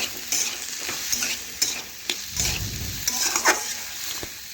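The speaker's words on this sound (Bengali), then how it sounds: "লবণটা ভালোভাবে নাড়াচাড়া করে মিশিয়ে নিচ্ছি।" Potatoes fry with salt in a pan, a constant sizzle under repeated scraping stirs and clinks of a spatula against the pan, close up and alone for several seconds.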